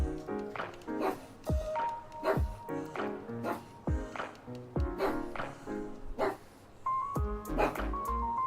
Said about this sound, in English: I'm not quite sure why Daruk's barking